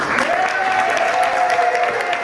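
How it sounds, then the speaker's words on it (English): A crowd applauds steadily, loud and sustained clapping from many hands, with a faint tone running underneath. "The loudest clap came from the sidelines."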